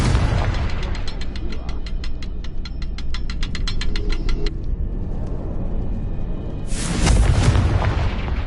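A Confringo blasting spell explosion: a burst, then a rapid mechanical ratcheting clatter for several seconds, a lull of rumbling, and another loud blast near the end.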